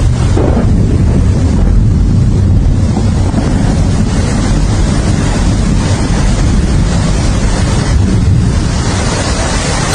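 Heavy rain pours down during a thunderstorm, a loud, steady roar of downpour that continues without a break from start to finish, with no voices.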